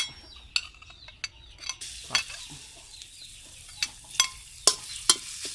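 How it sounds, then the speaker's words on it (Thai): Garlic frying in a little oil in a pan over low heat, a soft sizzle broken by sharp clicks and scrapes of a utensil against the pan, with a few louder knocks toward the end. "ไฟอ่อนใส่น้ำมันนิดหน่อย ปาบปึ๊บ เจียวกระเทียมก่อนครับ"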